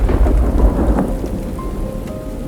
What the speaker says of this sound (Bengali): বৃষ্টিটাও তো থামার কোনো নাম নেই।